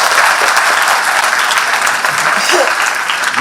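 Audience at a state scholarship scheme launch event applauds loudly, a dense steady burst of clapping filling the hall and fading slightly toward the end.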